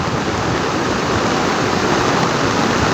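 Typhoon floodwater rushes down from the mountain in a dense, loud, steady roar of churning water that holds at full strength throughout.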